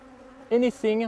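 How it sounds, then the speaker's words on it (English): Honey bees buzz during a hive inspection as frames are shaken, with two loud, sustained buzzing bursts close by over a quieter background hum. "you have to shake off the bees"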